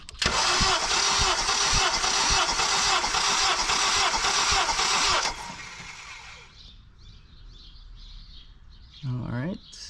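A rebuilt turbocharged 8th-generation Honda Civic engine cranks steadily during a compression test, a loud, even rhythmic churn for about five seconds that then cuts off, leaving quiet background with faint birds and a brief voice near the end.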